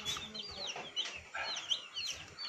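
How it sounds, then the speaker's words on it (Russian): Newly delivered broiler chicks in a box, a busy chorus of high, overlapping peeps and chirps repeating steadily throughout, close and fairly loud with no talking. "Бройлеры, бройлеры."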